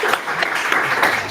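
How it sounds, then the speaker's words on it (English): A meetup audience gives a speaker a brief round of applause, a short burst of close, dense clapping. "A small round of applause for Emanuele."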